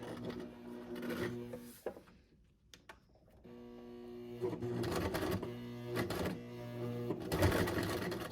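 A sewing machine stitches through six layers of fabric in bursts, a loud buzzing hum that stops and restarts while the hand dial is worked, making a face mask.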